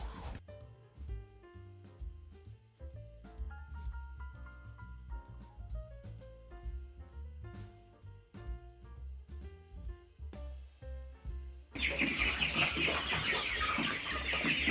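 Chickens cluck repeatedly in short, busy bursts nearby, and a louder rush of noise takes over near the end.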